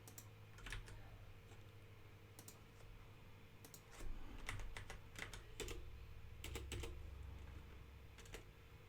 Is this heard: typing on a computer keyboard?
yes